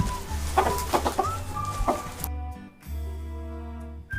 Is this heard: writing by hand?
no